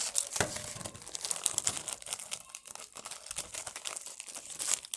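A wafer's crinkly wrapper is torn open up close, with sharp rustling and tearing bursts that come in uneven waves and no speech over them.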